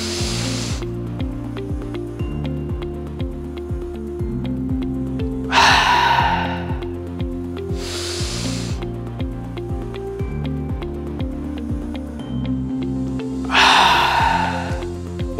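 Three sharp, forceful breaths blown out like coughs in spaced bursts during a breathing exercise, over steady rhythmic background music.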